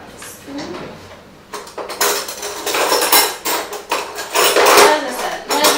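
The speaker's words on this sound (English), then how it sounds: "Give that a nice stir." A spoon stirs coconut milk and sun butter in a container, making repeated loud clinks and scrapes close by in irregular bursts that grow busier toward the end.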